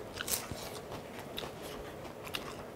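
Crispy fried seaweed chips (gim-bugak) crunch up close as someone bites and chews them during a meal of soy-marinated raw crab and rice, a steady run of dry crackly bites with a few sharper snaps.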